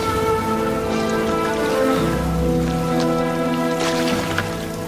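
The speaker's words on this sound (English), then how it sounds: "It's like moving on a rainy day, this." Heavy rain falls on a rocky island. A steady, dense hiss and patter runs throughout, along with a low rumbling undertone and some tonal hum, and no one speaks.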